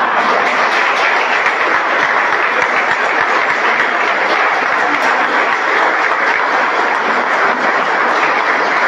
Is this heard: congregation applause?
yes